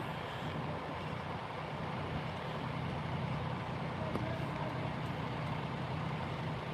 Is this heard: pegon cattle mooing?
no